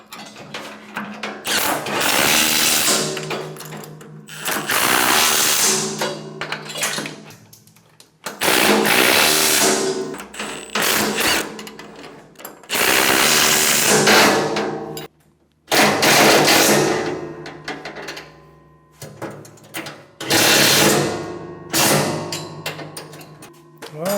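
A power tool drives and tightens bolts on a MUSKOX snowblower auger, loud close whirring bursts of several seconds each, separated by short pauses, with no talking.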